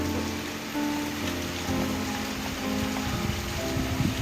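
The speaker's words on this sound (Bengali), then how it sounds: "এখনো জোর হাওয়া জোর বৃষ্টি পড়ছে" Steady heavy rain patters on surfaces amid strong wind, a continuous wash of drops with a faint background hum.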